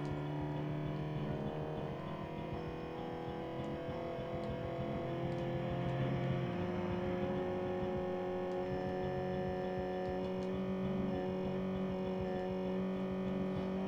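Sustained droning car engine in a Sega Saturn racing game, a steady buzzing hum with layered tones holding at an even level throughout, with no clear separate passing vehicle.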